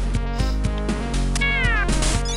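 A cat meows repeatedly over a busy, tonal game soundtrack from the Mega Drive game Moonwalker, short rising and falling cries layered on rhythmic music.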